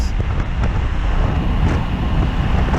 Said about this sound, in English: So I gotta hunch down a little bit to get out of the wind